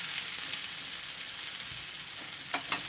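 A snack mixture for an iftar recipe sizzles and fries steadily in a pan while being stirred, a constant close crackle with a few soft scraping touches near the end.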